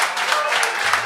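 An audience applauds a contestant on a Quebec gong-show stage, a dense, steady wash of clapping that fills the short moment without a break.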